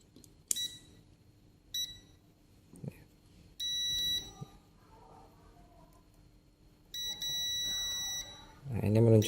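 A multimeter in continuity buzzer mode beeps while probing the fuse of a rice cooker, giving three or four short, steady electronic tones, two of them held about a second, with quiet room noise and a louder rustle at the end.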